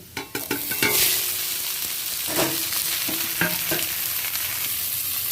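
Steamed greens tipped into a pan of frying garlic, onion and chilli, loud close sizzling with utensil scrapes and stirring clatter throughout.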